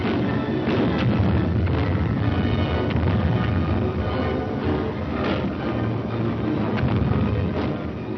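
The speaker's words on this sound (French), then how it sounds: "Elle est bientôt entourée par les éclatements des grenades." Grenade explosions bursting on a battlefield, a dense continuous rumble of blasts and booming impacts with periodic sharper bursts, loud and sustained throughout with no speech.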